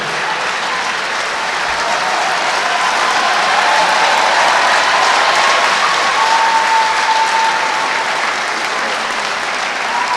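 Audience applause at a staff award ceremony for an Outstanding Staff of the Year 2024 prize during an end-of-year staff retreat: dense, steady clapping from a large crowd that holds loud and even for the full ten seconds.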